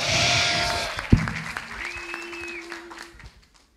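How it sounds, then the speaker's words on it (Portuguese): Audience applause at a national beatbox championship showcase in Brazil, a burst of clapping that fades away over a few seconds, with a few whistles and cheers mixed in. "Por favor, uma salva de palmas."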